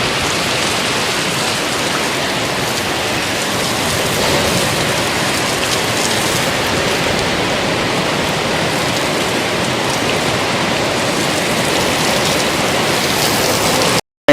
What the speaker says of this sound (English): this rain is just going crazy over here